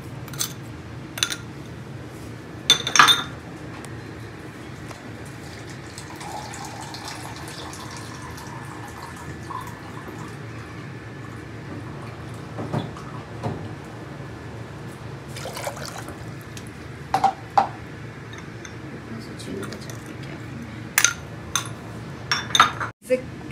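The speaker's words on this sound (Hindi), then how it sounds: "इस करछी से इस पानी को चलाते रहिएगा ताकि नीचे चीनी पकड़े नहीं।" A ladle stirs sugar and water in a pan while the syrup cooks for a homemade sweet, giving a low simmering wash broken by occasional sharp scrapes and clinks of metal.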